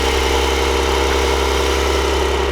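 A car engine idles steadily and loudly at close range, a constant low rumble with a smooth mechanical hum and no voices.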